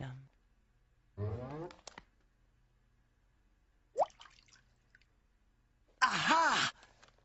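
A leaky faucet in a cartoon drips in sparse, separate plinks between long silences, while a character speaks in short bursts nearby.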